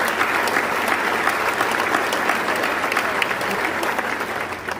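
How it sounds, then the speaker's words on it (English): A large audience at an AUSA LANPAC 2024 event in the Pacific applauds steadily, with a broad, even wash of clapping from many hands that continues without pause. "So please, a round of applause for AUSA and all that you represent."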